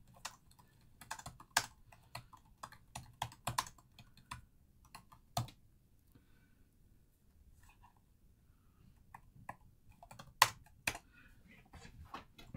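Keys clatter on a computer keyboard in scattered quick bursts with pauses between, close and moderately quiet, no voices present.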